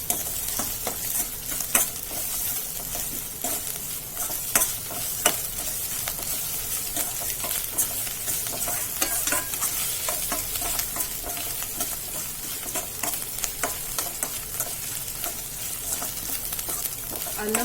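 Ginger garlic paste fries with a steady sizzle in a pan for capsicum curry. A spoon scrapes and stirs it in frequent irregular strokes, close and clear, with no talking.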